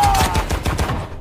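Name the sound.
gunshot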